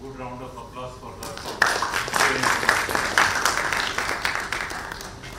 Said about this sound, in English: Good round of applause for her.